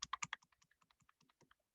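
A computer keyboard being tapped during CAD drafting work, with a quick burst of four loud keystrokes followed by a run of softer, evenly spaced key presses, close and clear with no talking.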